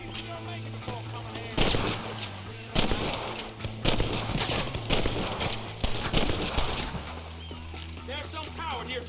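Gunfire from the video game Red Dead Redemption: bursts of loud shots crackle in clusters against a steady hum of game ambience and music, with a voice talking over parts of the action.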